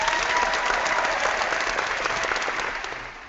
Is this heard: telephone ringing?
no